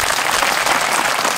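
A crowd at a political rally claps in a thick, even roar of hands, loud and unbroken for the short stretch, with no voices standing out.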